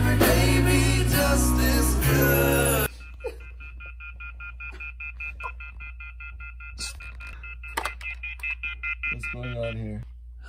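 An old telephone starts going off indoors, giving a steady, repeating electronic ring with short pauses, fairly quiet and close, after a loud stretch of talk and sound that cuts off abruptly.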